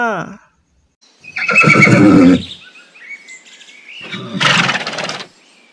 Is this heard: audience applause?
no